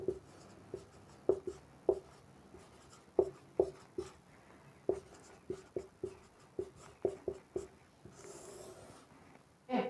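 A pen or chalk taps and scratches out a chemical equation, making a series of short, close, irregular strokes and clicks with small pauses, plus a brief softer rustle near the end.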